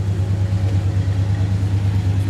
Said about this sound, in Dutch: De uitlaat weer voor joh, die 8 cilinder